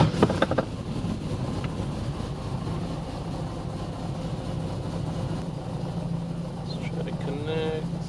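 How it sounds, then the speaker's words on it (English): A turbocharged Datsun 240Z in the workshop, its drive shaft spinning freely in neutral with no load, making a steady, close mechanical hum with a low drone throughout and a brief louder knock at the start. "even in neutral, the drive shaft will spin if it's got no load"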